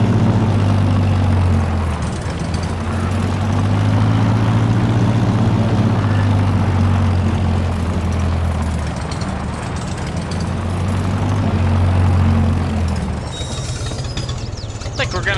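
The Farmall H tractor in Farming Simulator 22 drones on a low, steady engine rumble with throbbing swells, loud and continuous throughout a test drive.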